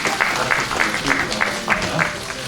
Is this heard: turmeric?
no